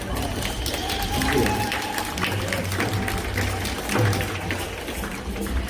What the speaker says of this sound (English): ladies a round of applause